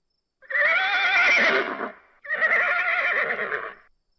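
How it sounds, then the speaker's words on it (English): Two loud, close horse whinnies follow one another after a brief gap, each a long quavering neigh with no other sound around it. "horse"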